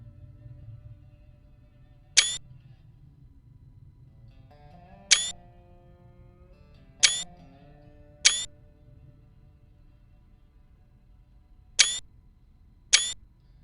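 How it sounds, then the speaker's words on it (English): A camera shutter clicks six times at irregular intervals, each a sharp, loud snap against quiet game background hum, with no talking. "My apologies for all the camera sounds there."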